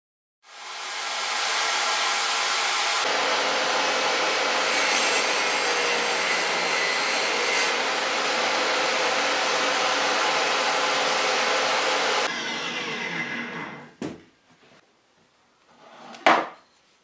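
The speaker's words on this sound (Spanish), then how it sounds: "Voy a cortar otro listón de madera." A circular saw mounted in a multi-tool table cuts a wooden strip, a loud sustained whine that runs for about twelve seconds, shifts pitch mid-cut, then spins down, followed by a couple of sharp knocks.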